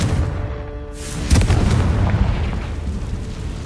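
A Confringo explosive curse in Hogwarts Legacy erupts as a loud boom after a short voiced line, followed by a rumbling, crackling blast that carries on to the end.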